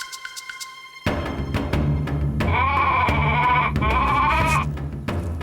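A cartoon sheep bleats loudly and repeatedly in wavering, drawn-out cries after a few light taps, set over background music.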